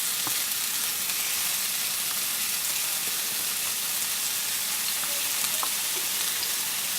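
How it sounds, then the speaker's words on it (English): Vegan ground meatballs sizzle steadily in a lightly oiled hot pan, a loud, even frying hiss that continues without pause and with no talking. "I wanted to make sure the pan is nice and sizzly."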